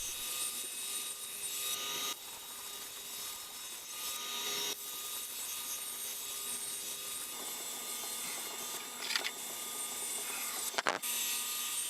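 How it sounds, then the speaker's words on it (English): A bandsaw in a home garage ripping wood strips for a strip-built kayak, a steady faint whirring hum with soft cutting hiss and a few brief knocks as strips are fed through one after another. "Then it was just feeding one strip after another through the saw."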